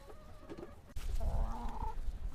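A rooster kept for breeding on a small poultry farm calls out, a loud, nearby crow that follows a few softer clucks and a sharp knock.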